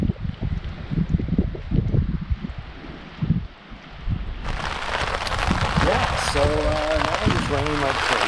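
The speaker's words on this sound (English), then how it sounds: "Raining like crazy." Heavy rain drums steadily on a camping tarp in the backcountry of North Cascades National Park, growing louder and denser partway through, with gusty rustling and handling noise near the microphone early on.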